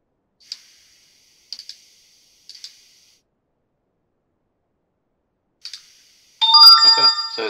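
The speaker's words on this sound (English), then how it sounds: "when it's complete, we will get a notification telling us so" An Android mobile computer from Datalogic gives a few soft, isolated clicks spread over several seconds of silence, followed by a brighter chiming notification tone announcing a completed update.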